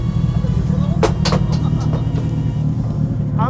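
Inside a Toyota AE86 N2-class race car, the engine gives a low, steady rumble at low revs, heard close and loud while people talk over it.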